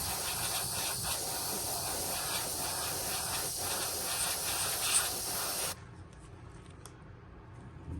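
Compressed air hisses steadily onto a freshly painted chrome and teal-purple crankbait fishing lure to dry it, a close continuous blowing spray that cuts off abruptly, leaving quiet room tone.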